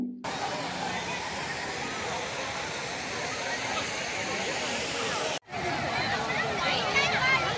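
The waterfall at Kodiveri Dam near Erode pours with a constant loud rushing roar, while a holiday crowd of visitors chatters and shouts underneath throughout.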